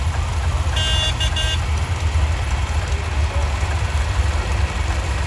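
A 1949–1975 working tractor at a farm days parade idles steadily as a deep, continuous low rumble, with a brief horn-like tonal sound near the start.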